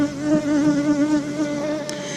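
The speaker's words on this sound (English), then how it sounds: "So you see that little group of bees right there?" Bees swarm over a hive frame, giving a loud, close, continuous buzzing drone with wavering pitch, with no talk over it.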